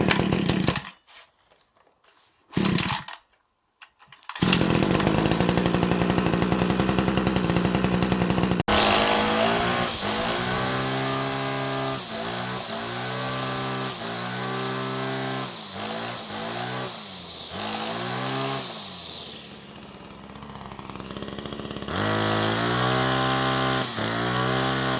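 A Sterwins PBC1-26L 26cc petrol brush cutter, salvaged from a dump, catches after a couple of short pull bursts, then runs loud and close with a buzzing two-stroke note, revving up and down before dipping and picking up again.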